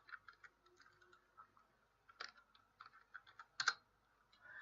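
Password being entered on a computer keyboard, soft scattered key taps at an uneven rhythm with a couple of louder clicks, quiet and close with no voices.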